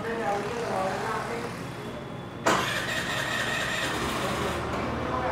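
A 2024 Suzuki Access 125 scooter engine cranks and catches midway through, then settles into a steady running hum amid background noise.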